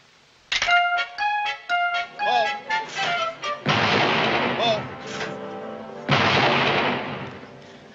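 Shotguns fire at a shooting contest, several sharp blasts ringing out in quick succession with long decaying booms after the last two, loud and close among tonal background music.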